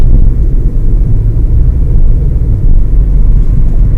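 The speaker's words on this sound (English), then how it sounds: "the car is actually making this like little sound because I'm actually grinding my gears" A manual car at 30 mph shifted into fifth gear, a loud continuous low rumbling drone with rough grinding texture, steady throughout with no voices.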